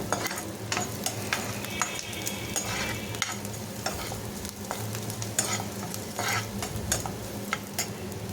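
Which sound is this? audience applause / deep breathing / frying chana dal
frying chana dal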